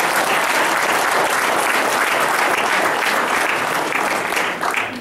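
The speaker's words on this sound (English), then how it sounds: "Big round of applause for that" Loud, dense applause from a large seminar audience, sustained steadily for about five seconds before easing slightly at the end, with no talk over it.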